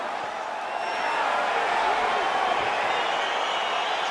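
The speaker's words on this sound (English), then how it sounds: "crowd getting excited as this fight gets underway" A large arena crowd roars steadily in the EA Sports UFC 4 fighting game as a bout begins, a broad, dense wash of cheering that swells slightly and holds, with a commentator talking over it.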